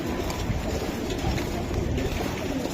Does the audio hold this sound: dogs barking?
no